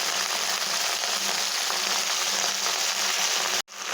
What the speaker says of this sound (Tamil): இந்த இலை நல்லா வதங்குற வரைக்கும் நல்லா கிளறி விட்டுட்டே இருக்கலாம். எண்ணெயிலேயே அப்படியே வதங்கணும்.